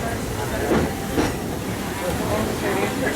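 Magic Kingdom train rolling along its tracks, a steady rumbling hiss with faint rail clatter and murmured voices blended underneath.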